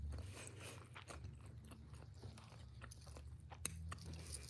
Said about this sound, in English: I'm chewing my breakfast